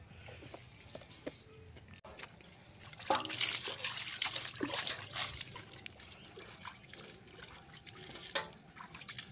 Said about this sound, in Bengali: জলটা ঢেলে দিই আমি।